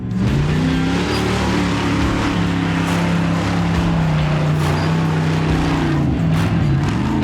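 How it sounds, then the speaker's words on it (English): Off-road race cars at the King of the Hammers race accelerate along a valley, a loud continuous engine drone with rising and falling pitch as they build speed, steady throughout with no talking. "you see them coming up along the valley and where they're building speed and then shooting up"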